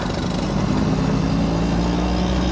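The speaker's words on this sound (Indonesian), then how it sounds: "Om Robi Rahardian dengan Vespa mininya" A Vespa mini scooter engine drones steadily while riding, a loud, continuous buzzing motor close by with no pauses.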